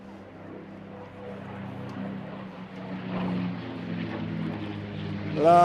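A vintage fighter plane painted in the colours of 4th Fighter Group commander Donald Blakesley makes a pass at the Eastbourne airshow, its propeller engine drone swelling steadily and growing loudest at the end.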